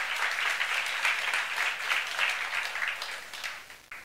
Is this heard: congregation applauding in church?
yes